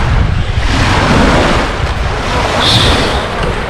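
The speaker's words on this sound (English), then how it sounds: "Due to this wind, the waves are coming, the tides are coming." Strong wind drives waves against the shore of a reservoir, a loud continuous rush of surf and buffeting wind noise close to the microphone, with no talking.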